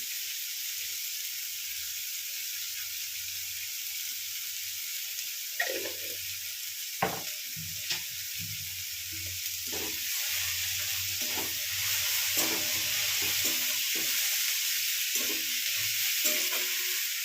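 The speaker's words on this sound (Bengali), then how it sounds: "পেঁয়াজটা ভাজতে দিলাম, এর মধ্যে একটুখানি নুন দিয়ে দেবো, তাতে তাড়াতাড়ি পেঁয়াজটা গলে যাবে।" Onions with a pinch of salt fry in a pan for a quick soyabean kosha, giving a steady sizzling hiss. Scraping spatula stirs come through irregularly, growing livelier in the second half, with no talk.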